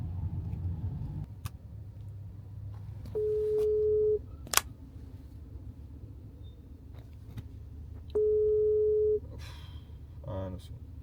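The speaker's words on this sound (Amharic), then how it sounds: "የደወሉላቸው ደንበኛ ስልክ አይመልስም" A phone call goes unanswered: two long, steady beeps of a telephone tone sound about five seconds apart, over low car-interior rumble with brief voices between.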